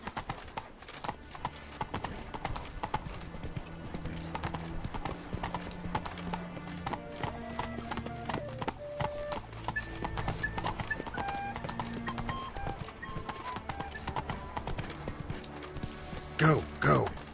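Horse galloping in The Witcher 3, a rapid, steady clip-clop of hooves running throughout, with snorts and a whinny near the end and game voices and music over it.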